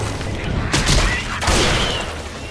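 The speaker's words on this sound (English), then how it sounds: "Pipe bomb out!" A pipe bomb blasts in the zombie shooter Left 4 Dead 2, with two heavy booming bursts over a dense, noisy backdrop of gunfire and chaos.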